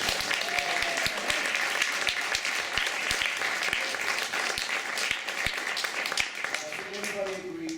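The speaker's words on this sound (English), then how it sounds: "Round of applause for Rick Schwartz," Audience applause after a stage reading, dense and sustained clapping from a crowd throughout, with sharp individual claps standing out nearby and a voice surfacing faintly near the end.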